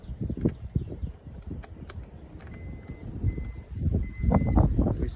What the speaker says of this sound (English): we still get the 3 beeps